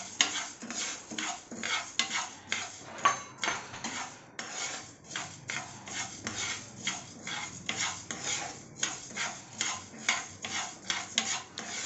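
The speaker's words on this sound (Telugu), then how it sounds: "ఇప్పుడు ఇవన్నీ డ్రై రోస్ట్ చేసుకోవాలి." Coriander seeds dry-roast in a pan over a medium flame, stirred with a utensil in a steady rhythm of scraping, rattling strokes, with no voices.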